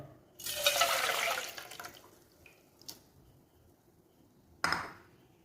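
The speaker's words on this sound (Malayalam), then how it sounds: "അപ്പോൾ ഇനി നമുക്കത് നമ്മൾ നേരത്തെ എടുത്ത ആ ഒരു പാത്രത്തിലേക്ക് ഒന്ന് ഒഴിച്ചു കൊടുക്കാം" Water pours steadily into a vessel during a natural hair remedy preparation, one fairly quiet stream lasting about a second and a half, followed by a brief later splash.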